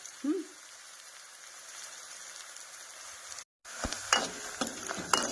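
Onion, green chilli and garlic fry to brown in a pan with a faint, steady sizzle. A brief clatter of stirring sounds near the end.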